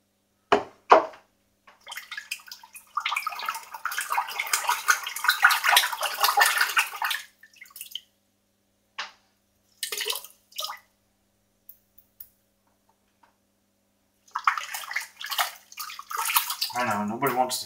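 A paint brush being rinsed and swished in a bowl of water, with long bursts of splashing and sloshing broken by short pauses and a few drips, fairly close and clear, with no talking.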